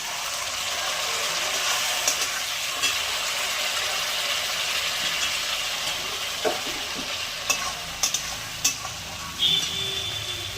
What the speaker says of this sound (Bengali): টমেটোগুলো দিয়ে দিলাম।